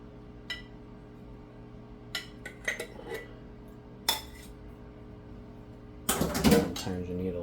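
A spoon scooping a mat of lactic acid bacteria culture out of a container, making a few scattered clinks and scrapes that end in a louder clatter, with quiet room background.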